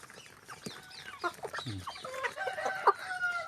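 Chickens clucking and calling while being fed, a busy mix of short clucks and squawks close by at moderate loudness, with no talking.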